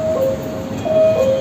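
A new Wuhan metro train pulls into a station, a steady rumbling roll with brief two-tone electronic chimes or signal beeps over it, fairly close.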